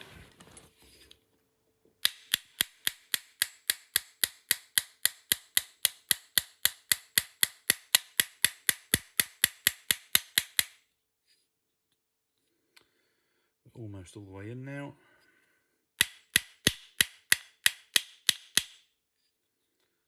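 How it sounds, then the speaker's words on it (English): Steel hammer tapping a part into a Tokyo Marui Sig Sauer P226 E2 airsoft pistol frame, a long run of sharp, evenly spaced close taps, then a pause with a brief voice, then a few more quick taps. "I think I'm going to have to tap this in with a hammer"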